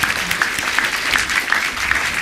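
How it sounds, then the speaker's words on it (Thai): Short burst of dense audience applause at a Thai teachers' event, many hands clapping steadily and loudly with no talk over it. "ขอบคุณด้วยเสียงปรบมือดังๆ"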